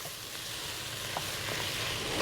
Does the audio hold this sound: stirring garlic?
yes